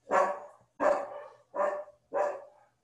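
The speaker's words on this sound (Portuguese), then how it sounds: "Desculpe os meus cachorros, ó, começou." A dog barks four times at an even pace, each bark clear and moderately close with short pauses between.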